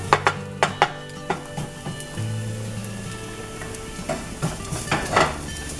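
Metal utensil scraping browned scallop remnants across a hot pan, with a run of sharp, irregular scrapes and clinks over a steady sizzle.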